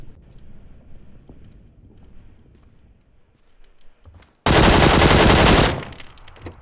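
A QBZ rifle fires a loud continuous automatic burst in a video game, breaking in after a quiet stretch of faint footsteps and lasting over a second before cutting off.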